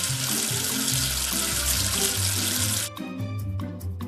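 A faucet runs hard into a sink, rinsing soap from a toy letter: a loud, steady rush of water for about three seconds, then a thinner, uneven splash, with a soft melodic background underneath.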